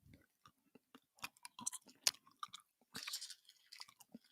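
Close, wet chewing of a soft, sticky lemon ginger chew candy, with irregular smacking and crunching bursts and a brief rustle near the end.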